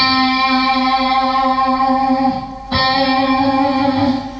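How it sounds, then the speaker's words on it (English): An electric guitar note is held with vibrato from a floating tremolo bar, wavering sharp and flat in a rounded way, loud and sustained with a brief dip before the tone returns. "If you have a floating tremolo bar, it's more of a rounded sound where you can go sharp and flat"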